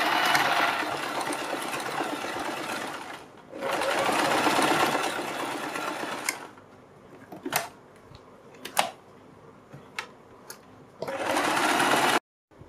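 A sewing machine stitches the neck of a kurti in two loud, continuous runs, then gives short mechanical clicks and taps before a final burst of stitching.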